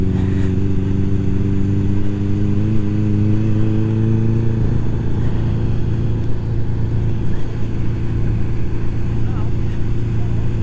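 An engine put into gear on a slow off-road track runs as a loud, steady idling drone close by, with a higher whining tone in the first few seconds before settling into a rough, constant rumble.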